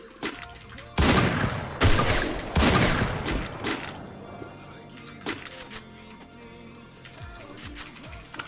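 Gunfire in the Free Fire video game: several loud sharp shots ring out in quick succession, then a few scattered quieter pops follow as the action fades.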